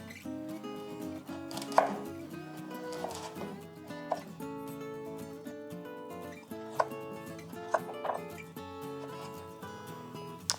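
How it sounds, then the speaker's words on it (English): A chef's knife slices a carrot on a cutting board into even pieces, with a steady series of firm, close chopping taps under background music. "Then we need to just cut even pieces."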